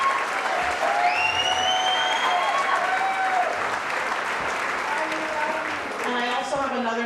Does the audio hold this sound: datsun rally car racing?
no